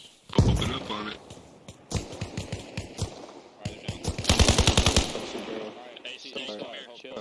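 Gunfire in the military shooter ARMA Reforger: bursts of automatic fire and single rifle shots crack back and forth at close range, with a rapid sustained burst in the middle, while voices talk over the shooting.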